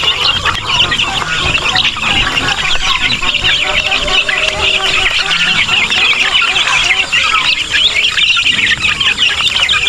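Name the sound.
many chicks chirping on a farm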